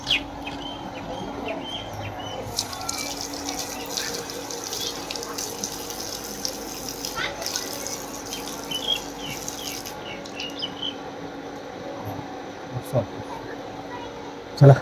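Tap water runs steadily outside Shri Swami Samarth Math in Wagholi, Nalasopara, as hands and feet are washed, a continuous splashing wash with scattered rubbing and a few sharper knocks, with birds and people talking faintly around.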